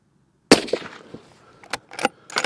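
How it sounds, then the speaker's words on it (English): A single sharp report from a Browning X-Bolt 2 Nordic rifle with an 18.5-inch barrel cracks close and loud, followed by quieter clicks and clatter of the bolt and handling. "I'm expecting good things of this, because this X-Bolt 2 Nordic is really shooting well."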